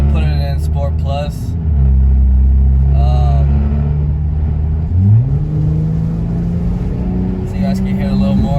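A Mercedes-Benz C43 AMG Track Edition in Sport Plus mode revs up loudly and close, its exhaust rising to a steady drone that climbs again near the middle of the clip, with people talking over it.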